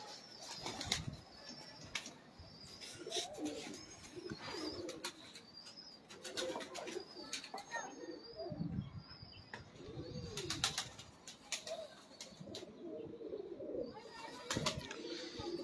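Lakha pigeons coo in repeated, rolling phrases close by, broken by sharp bursts of flapping wings. The birds are heard alone throughout.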